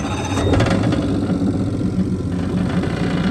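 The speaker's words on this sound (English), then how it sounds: "So now what we're going to do is go over here and start the motor" A Tohatsu 30HP outboard motor starts and settles into a steady, fairly loud running drone, with a brief louder burst near the start.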